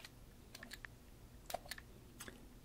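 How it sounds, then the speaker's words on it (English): A handful of soft, quick keyboard clicks from typing text on an iPhone, faint and close, arriving in short irregular bursts. "we're going to type in the text that we want to use"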